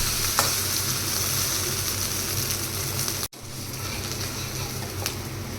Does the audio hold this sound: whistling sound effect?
no